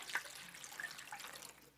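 Water runs and splashes into a tinware Turk's head muffin pan being restored, a close, fairly quiet pouring with small drips and gurgles throughout.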